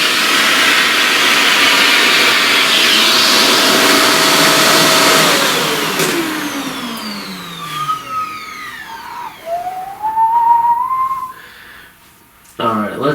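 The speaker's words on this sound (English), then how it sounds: "vacuum it a little bit" A vacuum cleaner sucks pastel dust off a flower drawing, giving a steady loud whoosh that cuts off into a falling motor whine. Quieter scattered clicks and handling noises follow.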